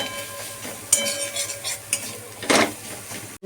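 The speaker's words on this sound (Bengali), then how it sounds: "ভালো করে একটুখানি নেড়ে নেব।" Food with a knob of butter is stirred in a pan for a chicken dish, producing close scraping and clinking utensil strokes with a light sizzle underneath, several uneven strokes and no speech.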